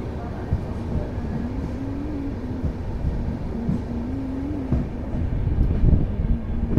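Padatik Express rumbling past a station platform, a steady low mechanical drone with a faint tonal whine rising and falling, continuous and moderately close, no talk.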